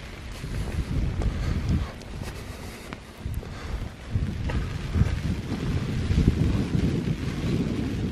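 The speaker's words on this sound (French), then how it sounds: "quand on est sur des îles, il y a du vent" Wind gusts on a Japanese island and buffets the microphone with a heavy, constant low rumble that rises and falls throughout, loud and close, with no voices.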